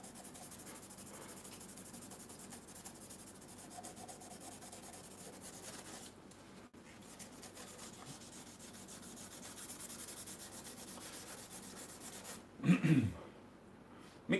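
Sandpaper rubbed back and forth by hand in a long, steady, hissing scrape that runs with little change for about twelve seconds, then breaks off into a short louder burst of handling noise near the end.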